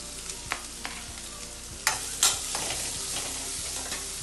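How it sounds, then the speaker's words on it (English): Chopped onions fry in a spiced masala for vada curry, a continuous near sizzle with scattered spatula scrapes and two sharper clanks partway through, no speech. "After the spices, I am adding the onions to the masala."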